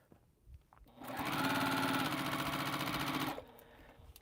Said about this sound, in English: So we'll take this off, come over here, sew the diagonal lines.